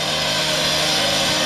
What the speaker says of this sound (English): Hammer's getting right with the concrete saw